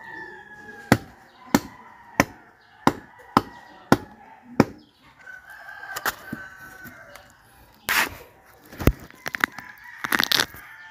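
A ripe cacao pod struck repeatedly to split it open, seven sharp evenly spaced whacks followed after a pause by a few more irregular hits, with chickens and other fowl calling in the background.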